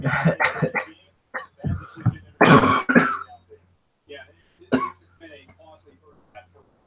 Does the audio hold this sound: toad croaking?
no